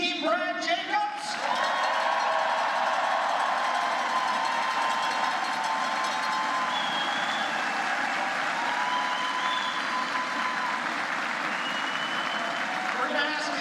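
An arena crowd at a men's curling national final gives the runners-up a steady round of applause, dense and sustained for over ten seconds. A few whistles ring out across it, and a voice speaks briefly at the start.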